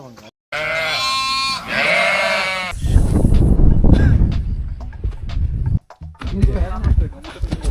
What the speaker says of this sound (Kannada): ಕುರಿಗಳು ಓಡಿಸ್ತಾ ಇರಬೇಕು